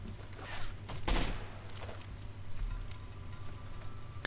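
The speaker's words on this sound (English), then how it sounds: "Really don't like that you guys are shooting at me." Enemy gunfire in Rainbow Six: Vegas 2 rings out as a few sharp, fairly quiet bursts of shots spaced over several seconds, with faint clicks and rattles between them.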